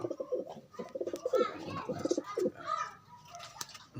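Pigeons coo close by in soft, repeated throaty bursts with a few faint chirps, under light background noise and with no clear talk.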